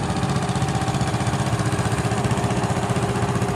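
A 1970 656 demonstrator tractor rumbles in a farm show parade, its engine chugging in a steady rapid pulse, loud and close with no talk over it.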